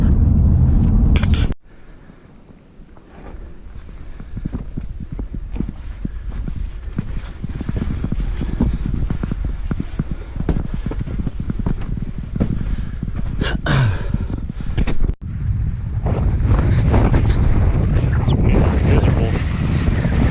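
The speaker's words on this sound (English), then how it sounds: "the wind is blowing 20 to 30, gusting maybe 40" Strong, gusting wind of 20 to 30, gusting to 40, roars and buffets the microphone almost continuously in a Texas slot canyon, Long Draw Narrows, with brief lulls and sudden surges.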